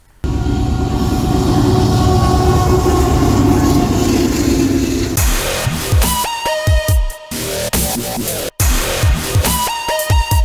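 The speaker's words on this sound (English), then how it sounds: "I will be turning the freight train speed up to 10 times for the next clip" A freight train, sped up ten times, rumbles past in a dense, continuous roar, then breaks into rapid clattering, clunking wheel and car noises with brief tonal squeals and short gaps.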